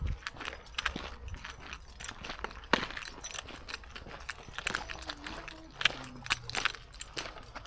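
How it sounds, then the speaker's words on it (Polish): Keys jingle in a pocket during an outdoor stroll around a sports facility, with light irregular metallic rattling in step with footsteps throughout. "Muszę schować klucze, gdzieś do kieszeni, bo brzęczą jak niewłaskie stworzenie."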